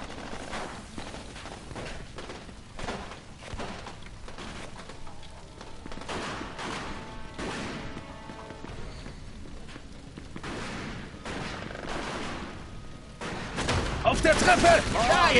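Gunfire from the video game Mafia 2 crackles in dense, rapid bursts throughout a shootout, growing louder near the end.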